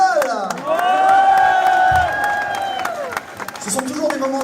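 Crowd cheering, whooping and clapping at an Ultra Vomit metal concert in Savigny-le-Temple, loud and close, with a sustained tonal whine of guitar feedback over the noise.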